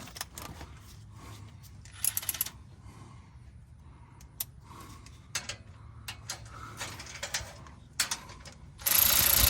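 A ratchet tightens exhaust bolts on a fifth-generation Camaro, producing irregular bursts of clicking and metallic rattling at close range over a low background hum, with no talking.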